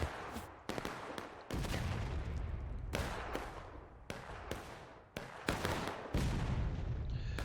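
Musket volleys and artillery fire in a Civil War video game: a rapid series of loud, sharp cracking bursts and rumbling booms, one after another with almost no gaps, heard alone.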